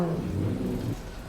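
A beat-up drift car, a 33, revs its engine at a drift event in Japan, giving a moderate, fairly distant throaty rising drone that cuts off abruptly partway through, leaving quieter rumble.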